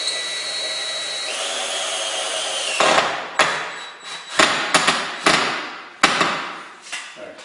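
A drill drives a sheetrock screw into corrugated steel wainscot, first a steady whine that shifts pitch, then several sharp loud bursts with pauses as the screw bites into the metal.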